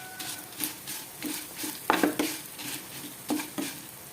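Curry leaves fry in a pan for a fish curry, sizzling softly while a spoon stirs and scrapes in repeated bursts, with light clinks of metal on the pan and no talk.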